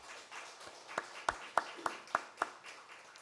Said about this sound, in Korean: 하나님께 먼저 영광의 박수 한번 돌리겠습니다